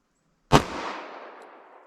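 A single sharp 9mm pistol shot from a 5-inch M&P firing Federal Train + Protect ammunition at a gel target outdoors, one loud close crack with a short decaying tail and no talking.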